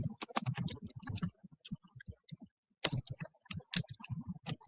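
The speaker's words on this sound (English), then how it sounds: "I'm going to write a commit message" Close, crisp computer keyboard typing for a git commit message, bursts of rapid key clicks broken by a short pause, then another flurry of keystrokes.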